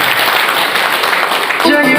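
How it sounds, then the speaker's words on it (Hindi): A seminar audience at Vijayam Lawn claps for Manjeet Sir and the Emerald upline partners, a dense, even roar of applause that fills the space before a brief tonal sound rises at the end. "तालियां बजनी चाहिए मंजीत सर के लिए"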